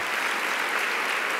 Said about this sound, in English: Give Sujata another round of applause.